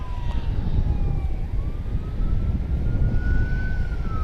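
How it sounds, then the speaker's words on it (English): Emergency vehicle sirens from an ambulance and a fire truck at night at DFW Airport: faint wailing tones rising and falling at a distance, under a loud steady rumble of background noise. "Looks like an ambulance taking the lead, followed by a fire truck."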